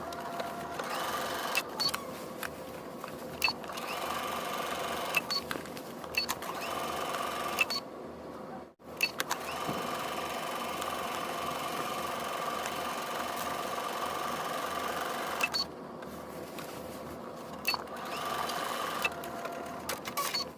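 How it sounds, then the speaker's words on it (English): A sewing machine stitches a collar seam along the raw edges, humming and rattling steadily for a long run with a couple of brief pauses, close and continuous with no talking. "And stitch it 5/8 of an inch, seam allowance along the raw edges."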